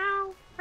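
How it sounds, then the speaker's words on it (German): Two short, clear cat meows from Landwirtschafts-Simulator 2017, a farming game on PS4, the second following a brief pause. "Ich hab doch Katzen gehört, ich hab doch hier irgendwo Katzen gehört."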